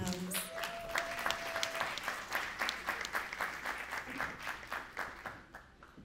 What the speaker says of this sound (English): Please let's give him a round of applause as he comes.